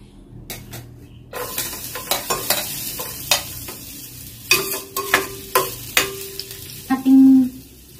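Garlic sautéing in a pan, a near sizzle punctuated by a rapid series of spatula scrapes and metallic clinks, closing with a brief louder clatter, no speech.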